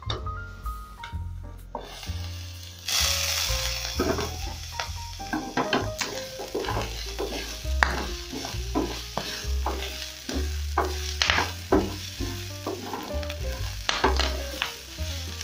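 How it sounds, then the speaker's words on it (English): Onions frying in a pan for matumbo wet fry, a steady close sizzle broken by repeated scraping and clinking as they are stirred, with no talking. "I'm going to give this a couple of minutes so that my onions can start cooking"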